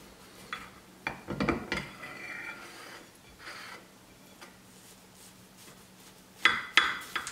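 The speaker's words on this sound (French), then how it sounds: "je prends un couteau et je vais me couper donc une jolie part" Knife sliding through a soft yogurt sponge cake and tapping the plate below, faint scrapes and clinks of cutlery and dishes in a quiet kitchen, with a couple of sharper knocks near the end.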